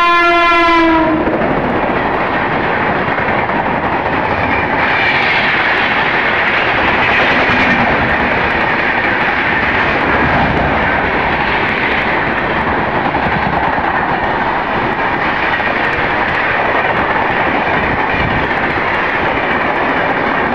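Vivek Express from Bandra Terminus to Jammu Tawi, a passenger train on Mumbai's Western Railway, sounds a loud horn as it arrives, then thunders past at speed in a long, close roar of wheels and wagons.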